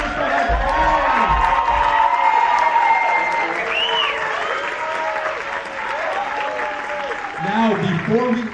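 Loud, sustained applause with cheering and whoops from a school audience standing for a middle school and high school band at an end-of-year band presentation, with voices shouting over the clapping throughout.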